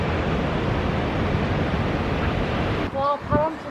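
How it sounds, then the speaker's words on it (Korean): Wind blows outdoors on a hot day, a steady broadband rush buffeting the microphone for about three seconds before easing as a voice briefly speaks near the end. "와, 바람 불어라."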